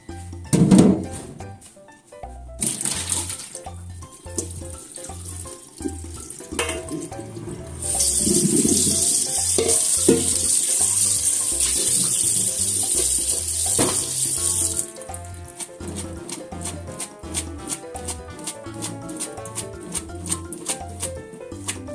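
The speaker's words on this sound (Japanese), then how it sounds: "ざるにあげてちょっと水切りします。" Soaked spicy green onions tipped into a colander to drain in a kitchen sink, with a tap running: water rushes and splashes steadily, loud and close, alongside clattering knocks and thumps from handling the colander.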